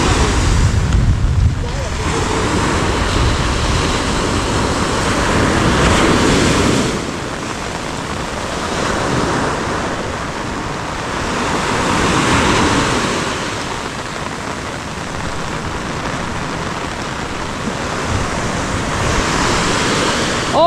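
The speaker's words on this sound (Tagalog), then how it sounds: "Lalo nang lumakas ang ulan." Heavy rain pouring outdoors in a storm, a loud dense hiss with gusty swells and wind buffeting the microphone, voices faintly underneath.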